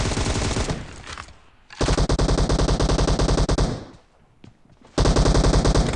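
Rapid automatic gunfire from PUBG Mobile rattles out in loud, dense bursts, breaking off into short pauses and then resuming at full intensity.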